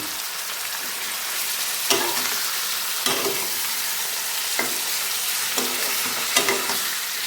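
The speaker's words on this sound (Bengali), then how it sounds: "এবার আমি এতে সেই ম্যারিনেট করা চিকেনটা দিয়ে দেব" Marinated chicken is added to onions browned over medium heat and fries in a pan, giving a steady sizzle with several sharp clatters of stirring spaced a second or so apart, close by, with no talking.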